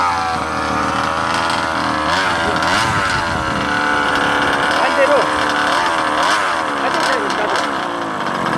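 A small gasoline engine in a 1/5 scale RC monster truck runs steadily nearby, buzzing loudly and rising and falling slightly as the throttle is nudged, with someone talking over it.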